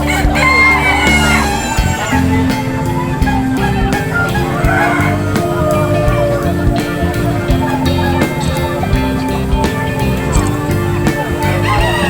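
American Silkie chickens cluck and a rooster crows amid a busy, noisy barnyard din at a livestock expo, with overlapping calls throughout.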